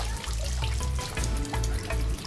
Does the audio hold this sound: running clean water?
yes